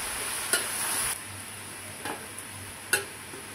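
A spoon stirs bitter gourd slices with turmeric and salt in a pan, a soft steady sizzle broken by a few sharp scraping clacks of the utensil against the pan.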